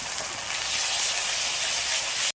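Ground spice paste hits hot oil over lightly fried chopped tomato and onion, giving a steady, loud, close hiss that runs unbroken for a couple of seconds before cutting off abruptly.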